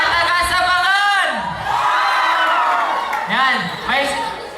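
A youth-event crowd of young people shouts and whoops together, with loud, sustained group cries and cheering rising in bursts from a large audience.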